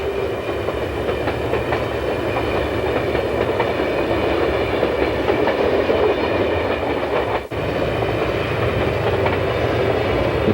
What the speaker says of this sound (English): The train makes its way through the gorge downgrade past Pardee Point.